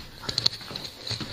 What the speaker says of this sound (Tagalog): isang mga yapak ang narinig nito sa hallway